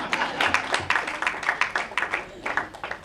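Audience applause at a 2018 arangetram dance recital, a steady wash of many hands clapping for about three seconds with uneven bursts, moderately loud and fairly close, with no voice over it.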